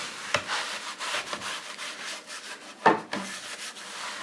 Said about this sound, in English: now I'm gonna take my cloth and you're just gonna wipe off any excess that didn't soak in